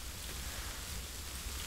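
Steady rain in the survival video game The Forest, a dense, even wash of falling water with no distinct drops standing out, moderately quiet and continuous throughout.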